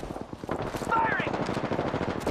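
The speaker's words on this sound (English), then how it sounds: "Firing!" Rapid automatic gunfire in the Apex Legends battle royale, a dense run of close, loud shots across the whole stretch, with a voice speaking briefly over the firing.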